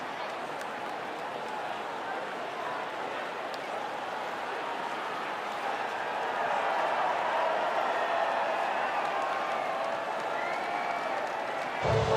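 A crowd cheers and applauds a podium finish at Imola in the F1 24 racing game, a steady dense wash of clapping and crowd noise that swells slightly partway through and continues throughout, with no talk.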